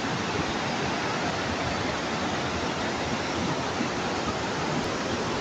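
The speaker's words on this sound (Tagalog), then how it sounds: "Malapit na tayo sa talon." Constant roaring rush of falling water, loud and unbroken, with no voices over it, at a waterfall in Claveria, Misamis Oriental, Philippines.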